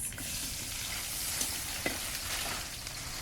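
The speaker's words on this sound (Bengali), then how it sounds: "এখন দিয়ে দিব রসুন এখন দিয়ে দিব পেঁয়াজ" Garlic and onion fry in a pan with a continuous close crackling sizzle and a few sharper pops, with no talking.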